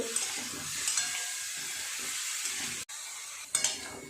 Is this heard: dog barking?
no